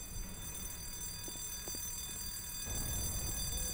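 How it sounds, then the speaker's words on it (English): An alarm bell rings inside a research facility in the video game Black Mesa, a faint, continuous high-pitched tone running steadily in the background over low machinery rumble, with no voices. "How long has that alarm bell been ringing now?"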